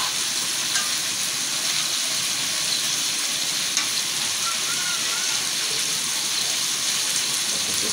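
Taro stolons (lati) frying in a pan with potatoes, a steady dense sizzle that runs unbroken and fairly loud throughout, with faint stirring scrapes and no voices.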